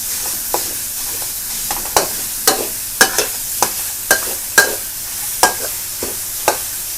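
Minced pork and dried chilies sizzle in a hot wok while a utensil scrapes and clacks against the metal in an irregular stirring rhythm.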